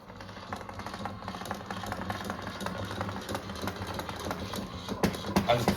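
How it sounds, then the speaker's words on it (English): Small electric motor of a model railway turntable whirring quietly with clunky, uneven knocks, a soft mechanical buzz that grows slightly louder toward the end. "as you can see, the turntable does actually work as it should do"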